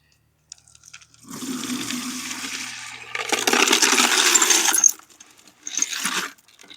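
Rock tumbler grit and tumbling media poured into a colander make a sustained gritty, rattling pour that swells louder, stops, then returns in a shorter burst, heard close up without talk.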